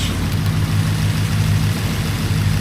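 Triumph Stag Mk1 engine with Stromberg carburettors idling at about 750 RPM, a loud, close, steady low rumble with an even pulsing beat and no speech.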